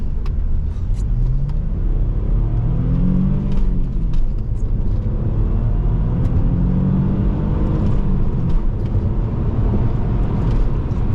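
A stock Audi B5 S4 with a turbocharged engine and manual gearbox accelerates hard from inside the cabin, the engine note climbing through the revs, dropping at each gear change, then rising again in a loud steady drone.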